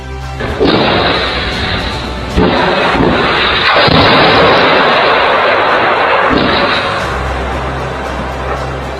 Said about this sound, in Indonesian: Nampak jelas footage menampilkan ledakan yang menghantam sejumlah unit bangunan pada malam hari